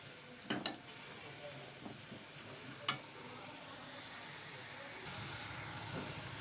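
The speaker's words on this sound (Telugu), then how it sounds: "పుదీనాను అయితే ఇలాగ పెట్టి వేయించేసుకోవాలి." Fresh mint leaves fry and sizzle in a pan for pudina pachadi, a soft steady hiss with a few sharp clicks and scrapes as the leaves are stirred, faint and close, with no voices.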